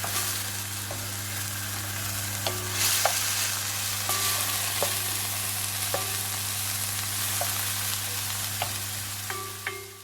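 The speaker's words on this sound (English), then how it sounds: "fry this off, we're gonna take it out again and then fry the egg." Food frying in a hot pan, a steady close sizzle and crackle with a constant hum beneath and occasional light clinks from stirring, continuing without talk.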